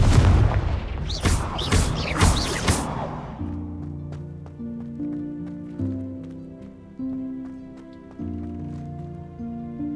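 A Confringo spell explosion in Hogwarts Legacy gives a burst of loud blasts and booms in the first few seconds, then gives way to a sustained musical score.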